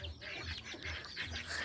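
Ducks on a family farm give faint, repeated quacking calls in short bursts, soft and somewhat distant against quiet outdoor background.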